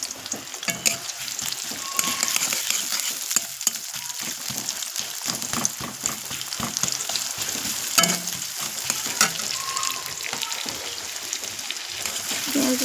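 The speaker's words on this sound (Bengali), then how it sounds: "লাল লাল করে ভেজে নেব।" Onions stir-fry in a little hot oil in a wok, sizzling continuously with frequent scraping and clattering stirring strokes throughout.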